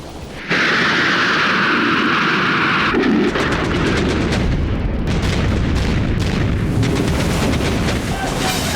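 Archival war footage of Egyptian forces opening fire: dense, loud, continuous booms and gunfire blasts layered into a constant roar of battle.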